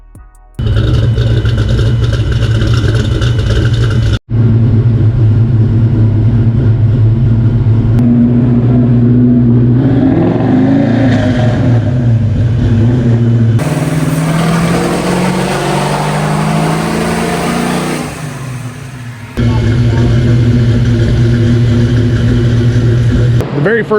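A loud V8 engine, a 393 stroker in a street car on a dyno, roars steadily, rising and falling through several hard revs, with brief pauses between pulls; a voice may be faintly audible underneath.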